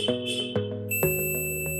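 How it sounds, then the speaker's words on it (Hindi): Sharp electronic beeps from a multimeter testing components on an ECM circuit board sound in short succession, each a clear tonal chirp ringing close and loud, with a sustained high tone after the last. "ये बीप दे रहा है, एक कंपोनेंट बीप दे रहा है, दूसरा कंपोनेंट बीप दे रहा है"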